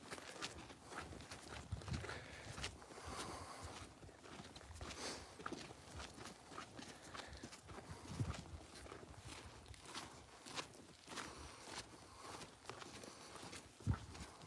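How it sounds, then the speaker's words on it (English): Footsteps crunch steadily along a quiet bush trail on a safari walk, soft and fairly faint, in an even walking rhythm with a few louder steps. "The only thing you hear is your footsteps."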